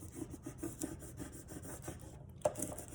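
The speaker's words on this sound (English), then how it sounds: "you gotta make sure you really scrape to get this vinyl to lay down" A tool scrapes vinyl down onto a lantern surface in quick, rhythmic rubbing strokes, close and fairly quiet, with one sharper scrape near the end and no voices.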